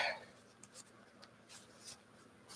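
Scissors snip the corners off dyed fabric, faint, close, brief crisp cuts and rustles of cloth scattered over a quiet background.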